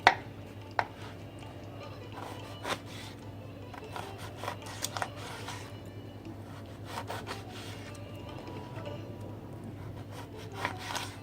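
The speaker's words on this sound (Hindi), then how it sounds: "इस तरह से छोटे छोटे पीस में काट लेंगे।" Knife chopping malta citrus into small pieces for pickle, a series of light, irregular cuts against a board, fairly faint and close, with no voices.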